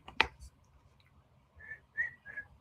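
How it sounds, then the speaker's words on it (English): A person whistles a few short notes nearby after a sharp click, the tones rising and wavering, with quiet background hum. "It's been a while I have not heard people whistle."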